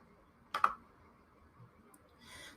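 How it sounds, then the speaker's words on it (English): A couple of quick computer mouse clicks close together, fairly crisp, followed by faint soft ticking in a quiet room while adding a list in the InstaBot app. "simply click add list"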